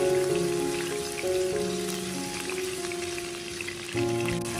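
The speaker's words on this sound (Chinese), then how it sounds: "将姜丝炒香" Shredded ginger sizzles in hot oil in a wok, a steady, close crackling hiss that runs throughout over faint sustained tones in the background.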